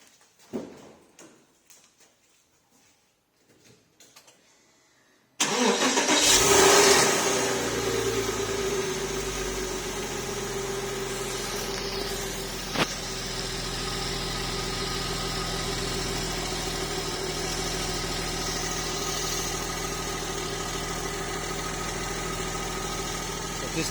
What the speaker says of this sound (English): So I'm going to start the car.